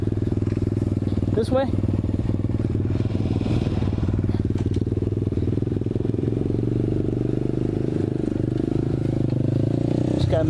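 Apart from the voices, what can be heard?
Apollo 125cc dirt bike engine riding on trails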